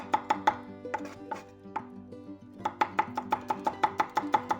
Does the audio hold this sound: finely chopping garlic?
yes